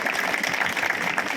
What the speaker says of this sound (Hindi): इसलिए ताली तो बनती है